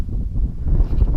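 Strong wind buffets the microphone at Iceland's southernmost point, a steady low roar filling the short moment with no voices.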